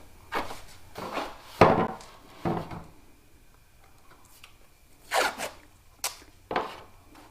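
Adhesive tape is ripped off the roll in several quick, sharp tearing bursts and pressed onto a Scion tC body while a Rocket Bunny widebody kit is fitted, with quiet pauses in between.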